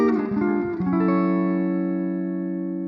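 Electric guitar played through an Amplitube 5 Jimi Hendrix amp simulation: a few quick picked notes, then a chord left ringing and slowly decaying. The tone is clean with a slight edge of breakup, close and alone.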